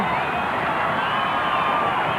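A large stadium crowd roars and cheers steadily at a 1991 rugby league match between Canterbury-Bankstown Bulldogs and Illawarra Steelers, a dense, continuous wash of voices without pause.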